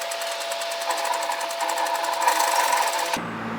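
A serger sewing machine runs steadily at close range as it stitches around a dress neckline, whirring with a fast rattling rhythm before stopping abruptly near the end.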